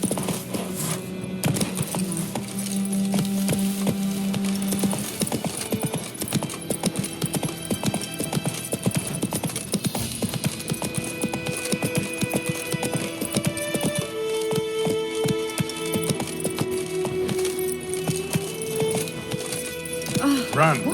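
Steady clip-clop of Geralt's horse Roach galloping and trotting in The Witcher 3: Wild Hunt, continuous rhythmic hoofbeats with occasional neighs over game ambience, with voices speaking throughout.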